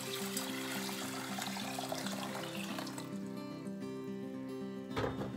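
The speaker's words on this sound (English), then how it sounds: "next we are going to add our 1 cup of lentils to a pot with 3 cups of water" Water pours steadily into a cooking pot along with a cup of lentils for a lentil curry, a continuous splashing rush under background music that ends in a brief burst.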